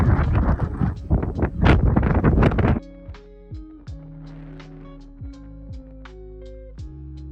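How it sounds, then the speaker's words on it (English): Strong wind buffets the microphone in rough, loud gusts on the clifftop at Cape Sounion by the Temple of Poseidon in Greece, then gives way to soft plucked musical tones. "I apologize in advance about the wind noises"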